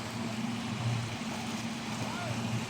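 A boat passes out on the sea with a faint, low, steady engine hum under soft wind and wave noise, distant and continuous.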